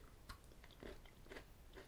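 Close-up crunching and biting of Cadbury Oreo Bites chocolate with crunchy cookie pieces, several soft crisp bites and chews in quick succession, faint and near.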